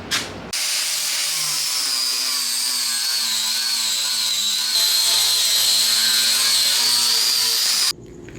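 A power tool cuts into the dry fiberglass hull of a new Leopard 45 catamaran, a loud continuous whining grind that holds steady for several seconds before stopping abruptly, close and alone with no talk.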